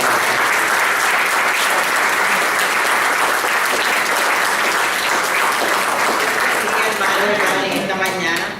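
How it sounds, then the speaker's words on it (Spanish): A congregation applauds loudly and steadily to welcome a reverend at a church anniversary service, a dense sustained wash of clapping that continues for several seconds before tapering off at the end. "recibamos con un fuerte aplauso a la reverenda"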